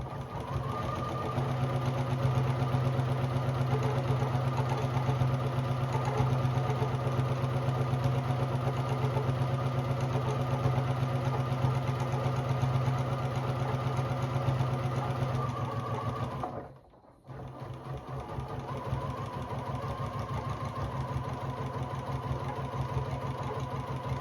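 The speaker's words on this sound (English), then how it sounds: "I'm just sewing down the long side, right sides together." A sewing machine stitches down the long side of fabric strips, its motor whirring in a steady close hum for about fifteen seconds, pausing briefly, then resuming.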